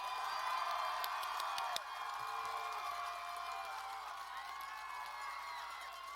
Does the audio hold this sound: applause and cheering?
yes